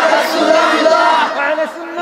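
A large crowd at a religious gathering roars a takbir in unison, a loud sustained collective shout that swells and then tapers off.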